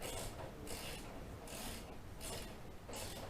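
Ratchet snugging bolts on a 2006 Chevrolet Impala window regulator, four quick bursts of clicking pawl strokes in an even rhythm, close and fairly quiet.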